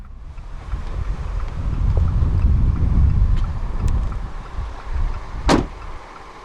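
A low rumbling hum of a 2015 Fiat 500X's driver's side power window motor drones for several seconds as it rolls down, close and steady, ending with a brief thump.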